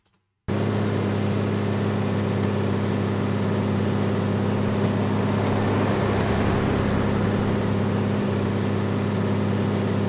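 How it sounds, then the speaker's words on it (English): A recorded car engine idles in a steady, static drone with a constant low hum and no revving or movement, loud and unbroken after a brief silent start. "So I've got a car engine."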